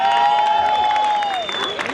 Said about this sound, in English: Give a round of applause for the men.